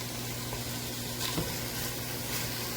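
A stir-fry sizzles steadily in a pan, a constant soft hiss of frying with a faint stir or clink partway through, heard close and without talking.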